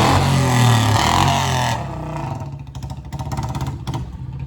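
A motorcycle engine revs loudly up close for under two seconds, then drops to a rough, pulsing idle that putters unevenly to the end.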